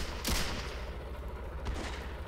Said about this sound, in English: There's just sporadic gunfire now.